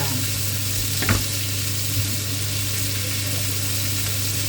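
Paella ingredients stir-fried in a pan, a steady close sizzle with a low constant hum and a brief scrape of stirring.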